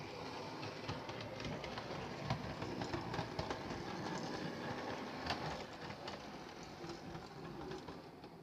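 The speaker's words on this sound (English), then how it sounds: "the train that's just gone out" A train runs along the rails at Adwick Lane, a steady rolling rumble with rhythmic clicking from the wheels, heard alone and at moderate distance.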